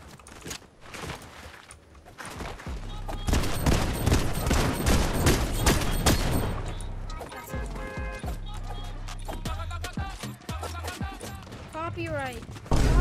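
Gunfire from a blue shotgun in the Fortnite video game, heard as repeated sharp blasts amid a busy mix of game sounds and music, loud and close, with a voice talking at times.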